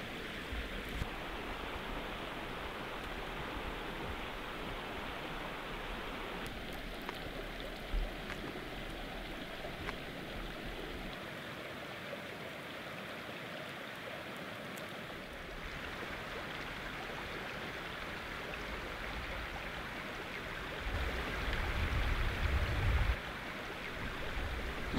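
A river flows steadily past a wilderness canoe camp at night in Labrador, a continuous broadband rush of moving water that holds even throughout, swelling slightly near the end, with no voices.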